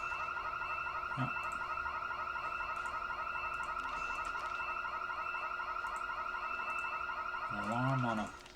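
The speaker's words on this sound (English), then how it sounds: "Alarm on a container, yep, and nothing." A wailing, warbling electronic alarm blares from a container in the Project Zomboid video game, holding a steady pulsing tone for several seconds before a rising sweep at the end.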